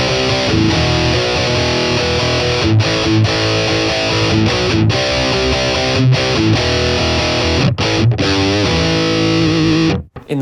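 Heavily distorted electric guitar through a BOSS Katana MK2 amp plays loud chugging riffs with sharp stops and palm-muted bursts, ending abruptly.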